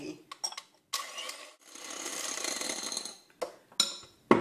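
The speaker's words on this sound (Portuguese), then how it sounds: "agora nós vamos bater as claras" An electric mixer whirs as it beats egg whites to stiff peaks for a flourless cake, with a steady motor drone in the middle and short start-stop bursts and clatter around it.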